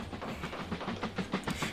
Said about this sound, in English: Where's our wood train? There it is.